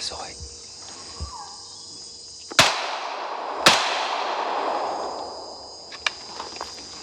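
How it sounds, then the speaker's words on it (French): Two sharp gunshots ring out about a second apart during forest combat training in the Amazon jungle of French Guiana, each with a long echoing decay, over a steady bed of insect and cricket chirping. "2 coups de feu."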